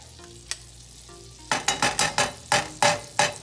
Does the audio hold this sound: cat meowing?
no